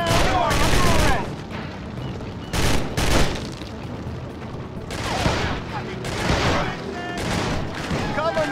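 Gunfire in Urban Chaos: Riot Response, with several loud bursts of shots spread across the span, while a voice shouts over the shooting.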